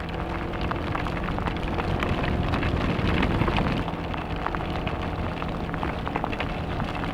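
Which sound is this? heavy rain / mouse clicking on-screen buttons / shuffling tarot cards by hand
heavy rain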